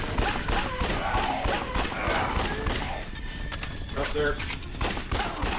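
Rapid, sustained gunfire and explosions from the zombie-shooter game Yakuza: Dead Souls fill the scene continuously and loudly, with a player speaking briefly over the shooting.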